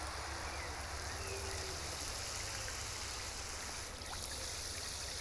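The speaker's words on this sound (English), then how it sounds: "I do like the sound of that water just hitting the surface of the pond." Continuous splashing of water pouring onto the surface of a small garden pond among ferns, a steady close hiss and patter without breaks.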